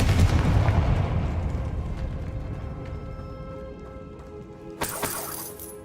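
A Confringo blast spell goes off in Hogwarts Legacy with a loud booming burst that rumbles and decays over several seconds, then a sharp crackling impact near the end.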